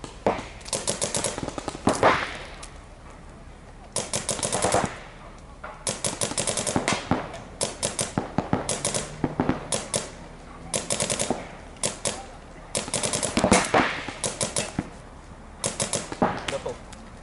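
Paintball markers fire in rapid, clattering bursts separated by short pauses during outdoor paintball training, loud and close, with occasional faint voices between volleys.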